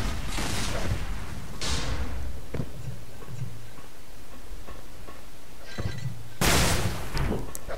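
Rocket launcher fire in the arena shooter Xonotic during a one-on-one duel: several sharp blasts with bursts of explosive noise, some near and loud, others fainter, spaced irregularly over steady game ambience.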